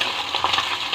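Mourala fish frying in oil in a pan, a close, steady crackling sizzle with small popping bursts and no voices.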